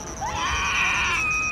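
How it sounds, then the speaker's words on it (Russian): A small child's shrill, sustained scream rises and holds at a distance in an open evening space in Alanya's Cleopatra area, over a low murmur of background ambience. "Малыш кричит"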